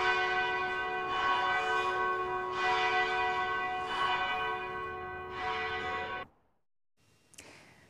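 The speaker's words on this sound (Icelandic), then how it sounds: "Það vil svo til að við eigum hérna upptöku af kirkjuklukkunum" Church bells ring in a recording, their rich tolling strokes overlapping in a steady, sustained wash that stops abruptly, followed by a brief faint sound.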